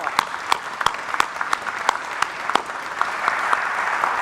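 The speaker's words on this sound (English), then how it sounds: "how about a round of applause?" A crowd at a police academy graduation applauds the mayor, loud close claps standing out sharply over a dense bed of steady clapping.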